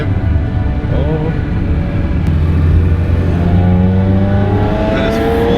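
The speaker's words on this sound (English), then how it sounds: "That is full throttle." A car engine at full throttle while touge drifting on a mountain road in Poland, loud continuous roar with rising revs and tyre noise, close and steady throughout.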